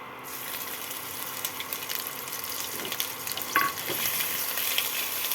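Grated ginger hits hot oil with tempered whole spices for a vegetarian Bengali pumpkin chokka, giving a steady soft sizzle with occasional stirring scrapes, heard close and alone.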